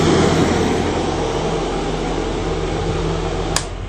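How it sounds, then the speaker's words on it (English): An exhaust fan in the patient compartment of a 2006 Wheeled Coach ambulance runs as a steady, loud whooshing drone with a low hum beneath it, holding constant throughout apart from one brief click near the end. "The exhaust fan, suck out the smell for both of these areas"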